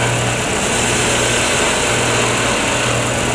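Steady, loud whirring hum of a wood lathe spinning a pen blank while a gouge cuts, the continuous motor drone and rough shaving texture running unbroken with no talk.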